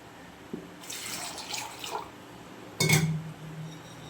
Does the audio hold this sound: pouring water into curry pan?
yes